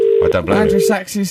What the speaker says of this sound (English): that's the phone ringing. We can hear the phone ringing.